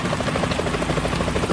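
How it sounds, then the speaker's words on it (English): Helicopter from the video game Metal Gear Solid 2, a steady loud rotor thrum with rhythmic blade chop, continuous and close throughout with no voices. "Is that a chopper I just heard?"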